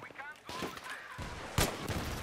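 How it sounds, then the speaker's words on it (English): Gunfire in Battlefield 3 comes as a quick burst of sharp shots, with one loud crack standing out. The shots are fairly quiet and mixed with game noise and a voice speaking. "they're shooting everything at me"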